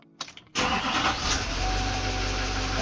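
A 2007–2013 Duramax 2500 diesel truck cranks with a few brief whirring turns, then catches and roars to life, settling into a loud, steady, rattly idle close by.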